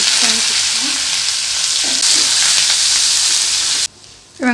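Onion, fennel seeds and curry leaves fry in hot oil for a goat leg soup, making a loud continuous sizzle and hiss that cuts off abruptly near the end.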